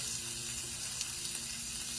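Steady, close sizzling of food frying in a pan, a continuous crackling hiss with no pauses and no talking.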